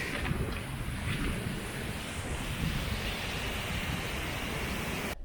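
Ocean waves wash in along the Oregon coast in a steady roar of surf, heavy with wind noise buffeting the microphone, continuous throughout.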